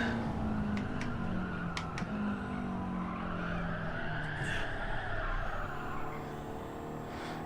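Race car tires squealing under late, hard braking in Gran Turismo 7, a sustained screech over a loud engine drone with gear-change blips, close and continuous, no talking.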